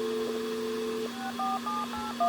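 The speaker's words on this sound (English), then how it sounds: "Let's do a redial on the phone here." Series of short dual-tone DTMF keypad beeps from a telephone redialing a number over a satellite phone link, quick successive tones over a steady background hum with no talking.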